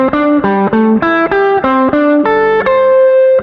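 A distorted electric guitar plays a pentatonic interval exercise, a steady run of two-note steps up the strings, each pair picked evenly in a regular rhythm, close and loud with no talking.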